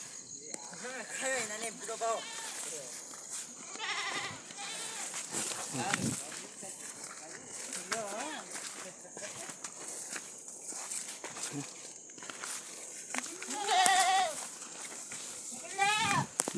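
Goats on a rural farm bleating repeatedly, several wavering calls close by scattered across the scene, with people talking over and between them and some footsteps.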